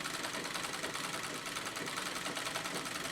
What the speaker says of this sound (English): how fast I pump my foot on this treadle to make the needle go up and down